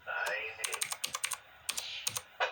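Quick, uneven tapping of keys on a computer keyboard, close and clicky, over a faint voice at the start.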